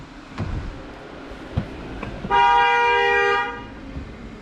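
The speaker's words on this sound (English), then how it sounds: "hazards are all on, horns going off." A 2019 Toyota Tacoma's horn sounds as an alarm, one steady, loud honk lasting about a second, preceded by a few scattered clicks and knocks.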